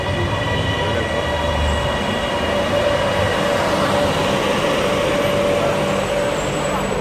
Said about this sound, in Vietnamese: Attention please. The train is approaching.